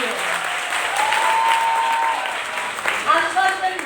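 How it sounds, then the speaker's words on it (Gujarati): An audience claps loudly and steadily throughout at a school prize-distribution ceremony for World Mother Language Day, with a voice sounding faintly over the applause. "તો ફરી એકવાર દરેક માટે જોરદાર તાળીઓ."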